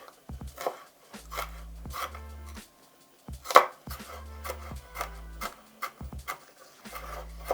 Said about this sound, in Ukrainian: цього я імбир маю нарізати на тоненькі-тоненькі смужки